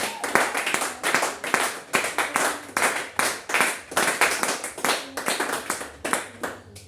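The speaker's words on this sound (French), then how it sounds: "Acclame encore pour la gloire du Seigneur." A church congregation claps together in steady rhythmic applause, many hands beating fast and even for several seconds, moderately loud and close, with a faint voice underneath.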